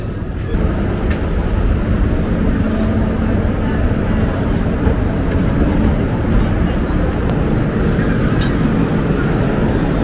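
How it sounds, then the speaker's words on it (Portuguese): Loud, steady rumbling roar of a busy metro station at Porto airport with rolling train noise and echoing hum, constant throughout, voices faint underneath. "Estamos na estação, está um pouquinho barulhento"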